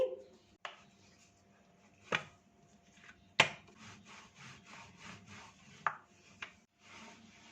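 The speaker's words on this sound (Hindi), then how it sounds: "एक पेड़ा लेंगे, इसकी रोटी बेल लेंगे।" A rolling pin works paratha dough on a board, giving soft rhythmic rubbing strokes punctuated by a few sharp wooden knocks, quiet and close, with no talking.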